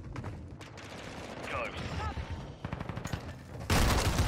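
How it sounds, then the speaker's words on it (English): Rapid gunfire crackles through a Modern Warfare 2 multiplayer match on a Season 6 build, with dense overlapping shots and a louder close burst near the end, set against faint voice chatter. "Guys with their freaking shotguns."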